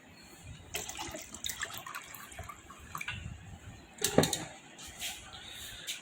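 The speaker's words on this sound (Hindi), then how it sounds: "इसमें मैंने एक सोल्यूशन बना के रखा हुआ है कॉपर सल्फेट का, ये इसमें मैं मिक्स कर देता हूँ।" Copper sulfate solution is poured and stirred into water, giving faint close splashes and trickling with a brief louder gurgle partway through, all fairly quiet.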